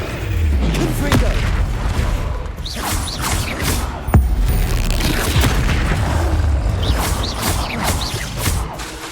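Repeated blasting-spell explosions boom and crash in quick succession during a Hogwarts Legacy combat scene, loud and close, mixed with clattering impacts and the odd shouted voice.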